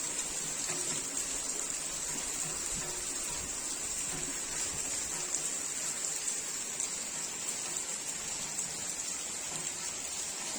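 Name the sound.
heavy rain in village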